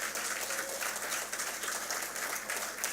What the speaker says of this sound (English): we should give them a big, big round of applause